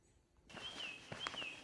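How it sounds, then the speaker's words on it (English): A few faint bird chirps ring out in a quiet abandoned former industrial quarry, brief high calls over a soft, still background. "Can you hear all the birds?"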